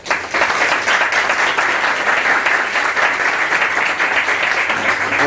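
A large audience at a Lima bar association event applauds loudly and steadily, a dense wash of many hands clapping close and sustained throughout.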